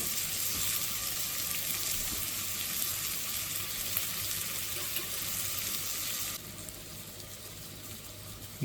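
Bacon frying in oil in a stew pot, a steady dense sizzle close up that drops slightly in level near the end, with no talking.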